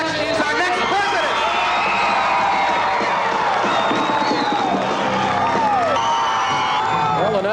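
A large election-night crowd erupts in loud, sustained cheering, whoops and shouts as Ronald Reagan is projected winner of the 1980 presidential election, with voices rising and falling in excited waves throughout.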